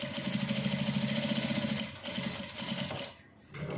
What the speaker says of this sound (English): the next thing I'm going to do now is to just top stitch like 1/4 of an inch all through it